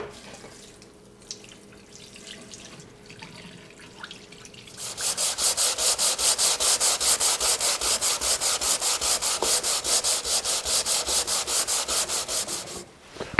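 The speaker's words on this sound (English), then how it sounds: "the sanding's getting deeper in some spots but not in others" Old wood of a pre-war sled is sanded by hand in fast, rhythmic back-and-forth strokes, a close, steady scratchy rasp starting after a few quieter seconds.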